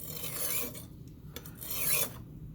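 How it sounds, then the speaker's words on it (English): A small ceramic sharpening stone rasps against the pitted blade of a vintage vegetable slicer. Two close, scratchy strokes are separated by a brief pause, and no one speaks. "I'm going to take a small sharpening stone"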